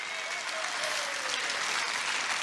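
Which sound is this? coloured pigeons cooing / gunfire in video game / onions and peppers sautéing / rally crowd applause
rally crowd applause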